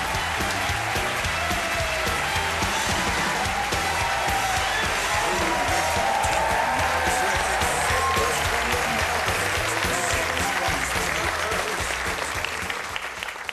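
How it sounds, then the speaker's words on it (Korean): A studio audience at a Korean comedy show breaks into loud, sustained applause that stays full and steady for the whole stretch, with faint voices beneath the clapping. "여러분들 박수 많이 쳐주셔서 정말 감사합니다"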